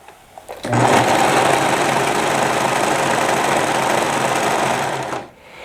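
A serger overlocking the seam of a fabric scrunchie, a loud, steady rapid mechanical chatter that starts abruptly after a few soft handling sounds, runs evenly for about four seconds, then winds down.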